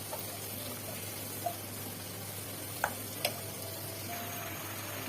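Chepa dried fish frying in a pan with turmeric, chili powder and salt, a soft steady sizzle with a few faint clicks and taps, quiet and close, no talking.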